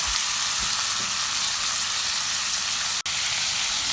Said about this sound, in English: And saute all the vegetables just for 1 minute.